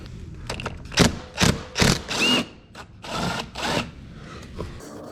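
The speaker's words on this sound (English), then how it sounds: "I hold this with pliers and the clip came out." A plastic bumper clip on a Honda CR-V front bumper is worked loose with pliers, giving a series of close, loud creaks, scrapes and clicks in several short bursts.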